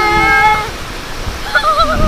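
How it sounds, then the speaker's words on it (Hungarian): Waves rush in at a cold beach where people run into the water in their clothes, a loud continuous wash of surf with splashing and excited voices shouting over it. "Jön a hullám!"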